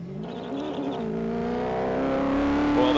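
Group A and C touring race cars at Winton circuit, a car engine revving and climbing in pitch as it accelerates, loud and building toward the end.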